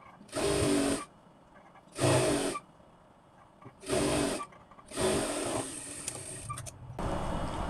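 A sewing machine stitches petticoat seams in four loud, close bursts of rapid whirring, each lasting about half a second to two seconds and separated by quiet pauses, with a final run at the end.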